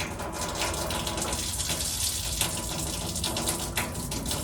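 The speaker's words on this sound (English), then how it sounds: "I get it out and under a little bit of running water. That's really loud, sorry." Running tap water rinses a mouthpiece under a faucet, a steady broadband hiss and splash lasting throughout, fairly loud and close with no talking.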